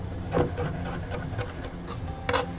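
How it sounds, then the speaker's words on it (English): A knife chops fresh garden mint finely on a board, giving a steady rapid rasping rub with a few louder strokes, close and alone. "Just chop that up nice and finely."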